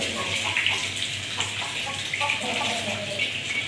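Water is poured and splashed onto a freshly plastered brick wall at a building site, producing a continuous close hiss and splatter, with voices faintly in the background.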